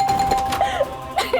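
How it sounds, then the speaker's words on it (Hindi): A doorbell rings late at night in a home, a short ding-dong chime repeated a couple of times, close and clear with no voices over it. "इतनी रात को घंटी कौन बजा रहा है?"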